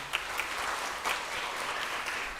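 A church congregation claps at a Chinese-language worship service, soft steady applause from a distance with a few sharper claps standing out.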